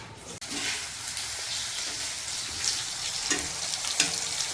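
Steady, loud crackling sizzle of hot oil with spices frying as tempering for dal, continuous throughout with a few sharper pops, close up and with no voices.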